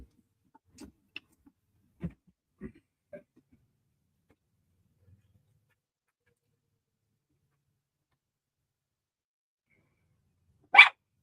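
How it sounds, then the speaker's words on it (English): Indoors, a dog gives a single sharp, loud bark near the end after long quiet, preceded by a few faint scattered knocks and small sounds. "Quit fucking going in there and barking."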